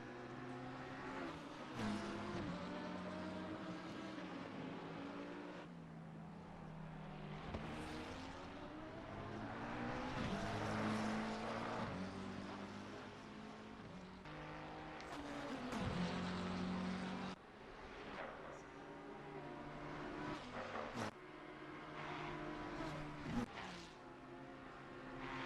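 McLaren race car engines at Spa in a racing video game: a loud, continuous engine roar that climbs and drops in pitch through repeated gear shifts, with other cars passing close by.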